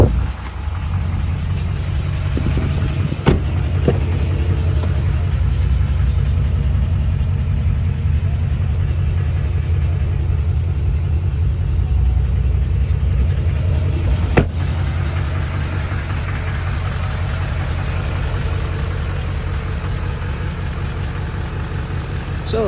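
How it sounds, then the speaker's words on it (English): A 2013 Chevrolet Silverado 2500HD crew cab 4x4 LTZ Z71 with a deleted Duramax diesel idles steadily close by, a continuous low rumble with a couple of faint knocks and no talking. "So this is a 2013 Duramax diesel crew cab 4x4 2500 LTZ Z71"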